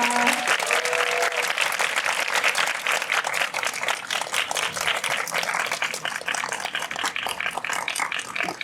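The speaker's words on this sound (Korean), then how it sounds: "여러분들 큰 박수 부탁드립니다." A large audience applauds loudly and steadily at a post-screening film talk event, a dense wash of clapping that continues throughout without pause.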